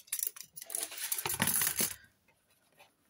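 Metal scissors are set down on a table during autumn and Halloween craft work, giving a few light clicks and then a brief, bright metallic clatter that quickly fades to quiet.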